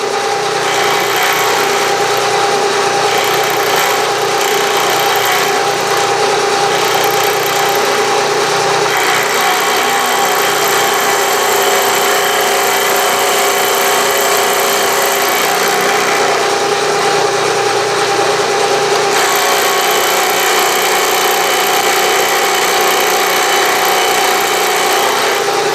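Steady, loud whir of a milling machine running a sharp cutter on a steam engine spool valve part, a continuous motor drone that holds almost unchanged throughout with no speech.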